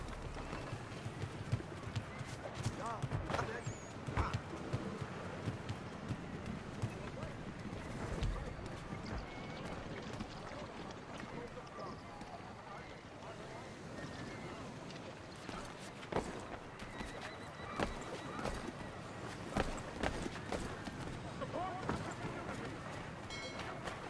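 Horse hooves clip-clop steadily in the Assassin's Creed 3 Remastered game, a continuous busy rhythm set in a noisy bed of ambient game sound and voices throughout.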